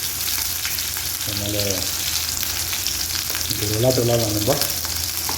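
Fish frying in hot oil gives a dense, continuous sizzle throughout, while someone speaks twice over it.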